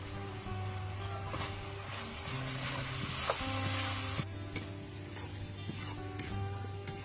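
Masala of turmeric, chilli, cumin and coriander powder cooking down with a little water in a kadai for chicken, a steady bubbling sizzle with repeated scraping strokes of a spatula.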